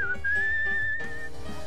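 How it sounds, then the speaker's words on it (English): A character whistles a short, clear melody in the video game Where the Water Tastes Like Wine, heard close and alone with no talking. "Or whistling?"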